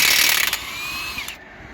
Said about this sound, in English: So I'm gonna get this thing jacked up.